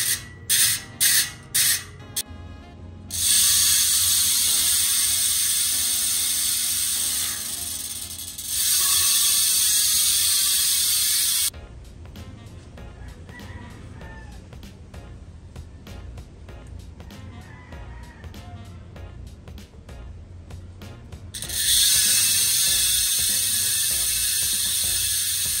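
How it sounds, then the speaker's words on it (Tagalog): Weapon Ambush pulse-type bicycle hub freewheeling with a smooth, fairly quiet clicking that starts as a few separate ticks, runs steady and loud in stretches, and eases off in between. "Swabe lang yung tunog niya, hindi ganun kaingay kasi nga pulse type."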